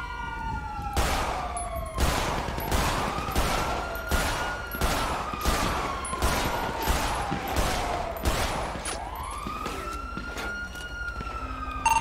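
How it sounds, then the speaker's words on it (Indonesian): Gunfire in a GTA V roleplay police chase, about a dozen sharp shots cracking at a steady rhythm over wailing police sirens, loud and close. "Tembak, Pak, tembak."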